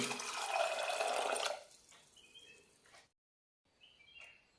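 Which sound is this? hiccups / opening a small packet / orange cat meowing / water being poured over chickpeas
water being poured over chickpeas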